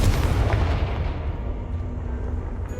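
Confringo blasting spell detonating in Hogwarts Legacy, a heavy low boom that fills the whole short stretch as a sustained rumbling roar, slowly easing in loudness without any talk.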